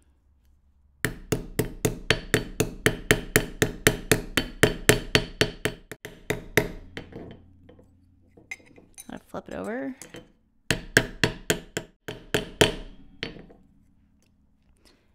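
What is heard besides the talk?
hammering metal spoon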